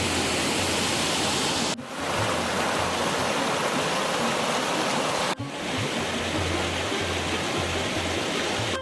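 A fast-flowing river current on the Narmada, a loud, dense rush of water that runs continuously from start to finish, broken only by two brief dips, with no voices.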